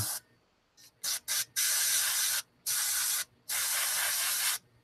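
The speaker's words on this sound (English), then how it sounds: "I'll spray, concentrate my spray pattern up on the tape and let the overspray be what I'm trying to control." A paint spray gun laying hazard stripes along masking tape hisses in repeated bursts, from short blips to longer sustained sprays of two seconds or so, separated by silent pauses.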